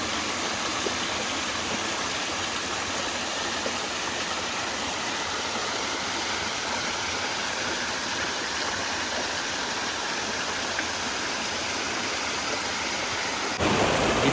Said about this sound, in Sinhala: මේ තියෙන්නේ මගේ පිටිපස්සෙන් කියන්නේ දිගට ගලාගෙන යන්නේ අපිට මාලිබොඩ පාරෙන් හම් වෙන සීතගඟුල